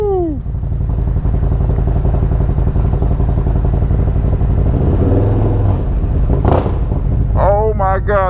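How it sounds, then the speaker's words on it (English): Cold-started motorcycle engine rumbling loudly and steadily with dense low pulsing throughout, a brief rev swell near the end, and whooping and excited voices breaking in over it. "Listen to that cold start, baby."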